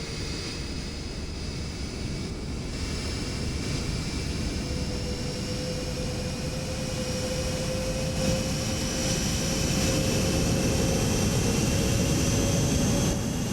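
Steady jet engine drone from a Citation X on the tarmac at Salt Lake City in a flight simulator, a continuous broadband roar with a faint high whine, even and unbroken throughout.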